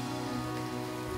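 Artificial rain pours steadily on a commercial film set, a dense, even hiss of water falling close by with no voices over it.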